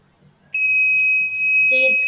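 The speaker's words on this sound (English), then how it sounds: "the buzzer will buzz" A burglar alarm buzzer wired to an IR sensor circuit switches on after a moment of near silence, then holds a loud, steady high-pitched tone.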